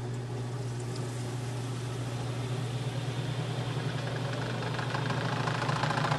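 A portable washing machine on its spin cycle at 1,000 RPM gives a steady, close droning hum with a low tone that builds slightly in loudness toward the end.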